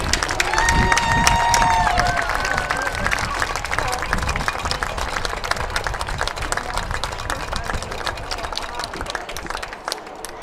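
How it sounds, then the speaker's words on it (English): Crowd at a high school senior night varsity football game applauding senior cheerleaders, band and color guard, a broad wash of clapping and cheering that swells at first then settles, with a voice briefly over it. "So a big round of applause for our senior cheerleaders, band, and color guard."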